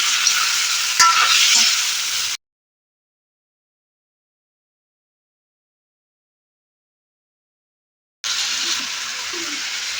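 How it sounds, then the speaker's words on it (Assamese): Sizzling of mutton and potatoes frying in a pan with occasional stirring, close and steady; the sound cuts out to silence for several seconds midway before resuming. "এখিনি মই ভালকে এতিয়া ভাজি লম"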